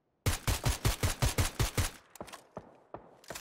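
Rapid bursts of automatic gunfire in the shooter game PUBG, about eight sharp evenly spaced shots followed by a few scattered, fainter single cracks trailing off, loud and close with no talk over them.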